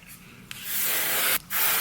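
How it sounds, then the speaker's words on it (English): Kenra 25 hairspray sprayed onto hair for an updo, two close hissing bursts, a long one followed after a brief pause by another, with no talk. "I'm actually gonna take the Kenra 25 hairspray again, and I'm gonna go ahead and spray it"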